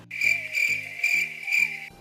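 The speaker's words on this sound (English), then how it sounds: "Crickets." Crickets chirp in a steady, shrill pulsing rhythm, loud and close, over a faint background of repeating low tones.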